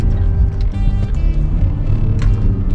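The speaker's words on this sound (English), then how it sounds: "Quite a nice sound for a V6. Now it's got the full stock exhaust on it." A 2012 Volkswagen Touareg V6 TDI with 4Motion and a fully stock exhaust drones close by as it drives, a loud, steady, low engine note with no talking.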